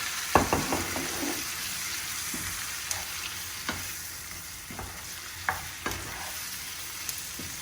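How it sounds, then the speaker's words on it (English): Tomatoes and basil stirred into a sizzling pan of spicy pasta sauce: a steady frying hiss beneath intermittent scraping and clinking taps of a utensil against the pan, close and fairly quiet. "I'm now going to add my tomatoes and my basil. Stir that in"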